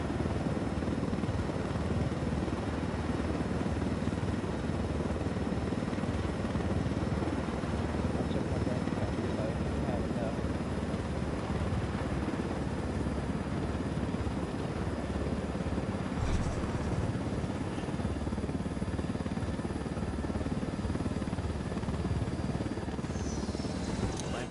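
Helicopter flying in the video game Ghost Recon Wildlands, a steady continuous rotor and engine drone that stays loud throughout, with voices speaking over it.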